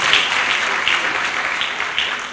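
An audience claps at an officers' promotion and decoration ceremony, brisk and fairly loud applause with a few sharper individual claps standing out, continuing throughout.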